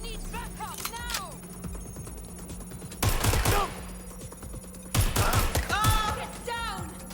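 Gunfire in the video game Watch Dogs: Legion: two sharp bursts of rapid shots a couple of seconds apart, with game noise and chirpy effects around them.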